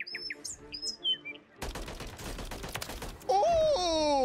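Rapid bursts of automatic gunfire from the video game Warzone rattle out for nearly two seconds, preceded by faint chirping game ambience and followed by a rising tonal effect.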